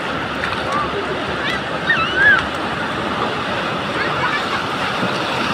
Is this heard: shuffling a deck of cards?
no